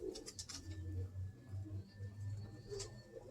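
A pigeon coos softly in a few low, rolling phrases, close by and fairly quiet, with faint chirps and light background noise around it.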